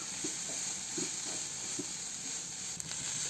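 Pepper powder and spices sauté in a pan, giving a steady soft sizzle and hiss, with faint scraping stirs at a slow, even rhythm.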